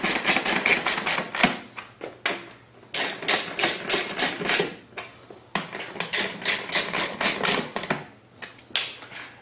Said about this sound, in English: Gonna tighten down these three bolts at the bottom.